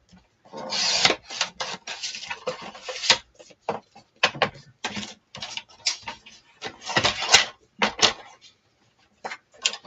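Index cards for mini journals are cut in a run of short, dry rasping strokes, close by and fairly loud, separated by brief silent pauses.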